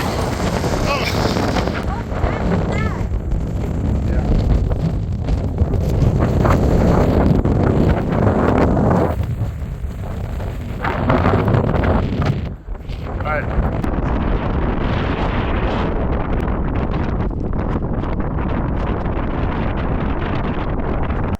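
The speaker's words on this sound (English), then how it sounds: "Those are the RFD winds going into a developing tornado." Strong rear-flank downdraft winds sweep ahead of a developing tornado during a storm chase. A loud, continuous roar buffets the microphone for the whole stretch, with gusts surging and easing.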